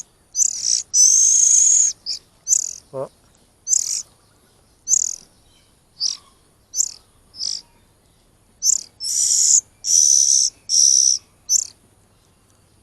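Baby oriental magpie-robin chicks being hand-fed, a string of short, shrill, high chirps and begging squeals in quick bursts with brief pauses, close and loud, with one short spoken word partway through.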